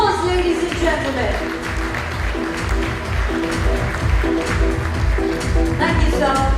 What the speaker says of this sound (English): Let's give them a huge round of applause, ladies and gentlemen.